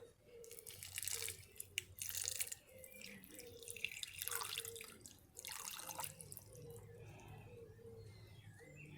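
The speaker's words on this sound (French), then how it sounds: "Je vais mettre de l'eau, puis regardez." Water poured onto homemade seed bombs, a quiet, continuous trickle with splashy drips, bright and close, lasting several seconds with no voices.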